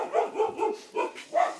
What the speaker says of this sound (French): Ah, les toutous sont pas contents.